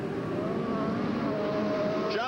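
Race cars circle a speedway in a steady, loud engine drone, with passing tones sliding in pitch and a commentator's voice running underneath throughout.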